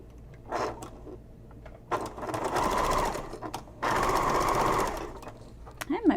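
A home sewing machine stitching thick accent fabric for a messenger bag runs in two sustained bursts separated by pauses, with lighter clicks around them and a voice speaking nearby.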